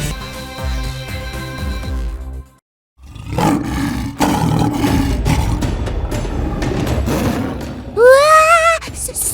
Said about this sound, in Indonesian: Ini dia, suara singa.